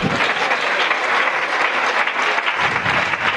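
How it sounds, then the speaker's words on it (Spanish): A church congregation applauds steadily at a worship service, dense sustained clapping from many hands that holds at an even level throughout, with no voices standing out. "Dele un aplauso al Señor."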